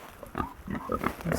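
Pigs on a small farm grunting and snuffling close by, a quick run of short low grunts.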